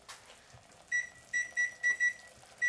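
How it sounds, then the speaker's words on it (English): A series of short, high electronic beeps in an uneven pattern, like buttons being pressed on a kitchen timer, in a quiet room. "Now, actually, I want to set a timer"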